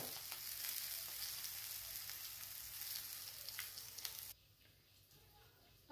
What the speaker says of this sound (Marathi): अशी छान परतून घ्यायची।